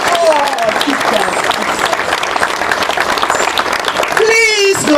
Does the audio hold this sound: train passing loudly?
no